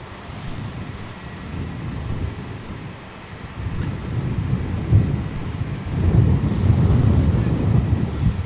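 Rex flight 227 passes at Melbourne Airport, a broad low rumble of aircraft engine noise swelling and fading over several seconds, with wind buffeting the microphone and no talk.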